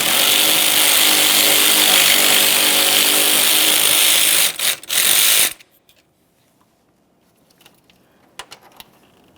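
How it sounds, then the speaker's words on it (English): A power tool whirs loudly and steadily for about five seconds while removing a 10mm radiator fan mounting bolt on a 2009-2014 Nissan Maxima, stutters briefly and then stops, leaving near silence with a few faint clicks. "Along each upper corner, you're going to find a 10mm headed mounting bolt."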